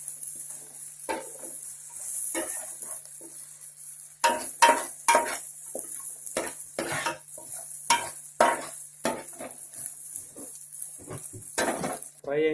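Ginger garlic paste fries in a pan for a small fish curry, a faint steady sizzle under repeated scraping stirs and clinks of a utensil against the pan, close by.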